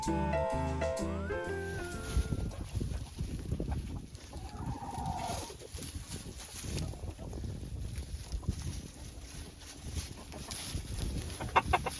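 Speckled Sussex hens and roosters cluck faintly in a farm coop, with a rooster crowing briefly at the start over steady outdoor background noise.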